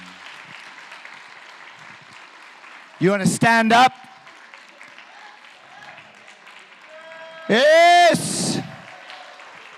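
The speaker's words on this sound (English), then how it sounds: "let's give the original families of Las Vegas a big round of applause." Audience applause for the original families of Las Vegas: a steady, moderate crowd clatter runs throughout while two loud voiced exclamations burst over it.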